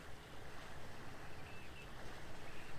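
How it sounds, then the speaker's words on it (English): Waves wash steadily past a boat on open water during bass fishing, a broad continuous rush with gentle swells and some wind buffeting the microphone, no voices. "Got some waves coming through here."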